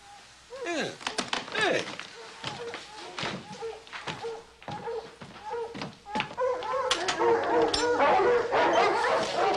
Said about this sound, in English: Hey, sound like hounds baying, don't it?